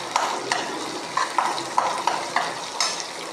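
Green chilies and onions stirred and frying in a pan for lemon rice, a steady close sizzle with a spatula scraping and stirring in repeated strokes, no voices.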